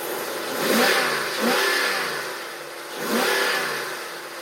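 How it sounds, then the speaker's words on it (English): A 2020 RAM Power Wagon 2500 three-quarter-ton pickup off-roading, its engine revving up and easing off in repeated swells, close and fairly loud with no talk over it. "we are off-roading today in the RAM Power Wagon"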